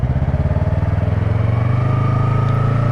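A motorcycle engine running loud and close with a fast rhythmic pulsing throb, the pitch rising steadily as the rider speeds up.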